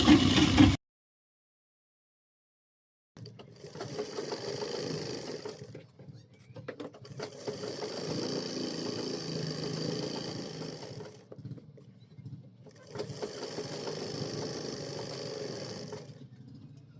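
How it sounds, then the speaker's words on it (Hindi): Sewing machine tack-stitching across a trouser pocket opening, running in three separate bursts of a few seconds each, moderately loud and close, with silent gaps between bursts and no talk. "और नीचे वाले जेब के मुंह पे यहाँ भी टाँकी बांधेंगे।"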